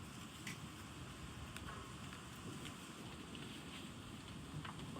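Steady wind blowing across an outdoor campsite while a hybrid camper is being set up, a constant rushing roar with low rumble and occasional gusty buffeting against the microphone, no speech.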